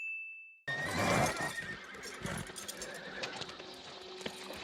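Horses neigh loudly up close, followed by irregular clopping hooves and restless movement, after a brief tonal beep at the very start; no speech.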